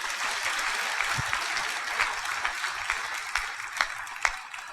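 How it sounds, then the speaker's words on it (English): Church congregation clapping for Jesus Christ, a sustained dense patter of many hands with a few sharper individual claps standing out near the end. "Clap for Jesus Christ."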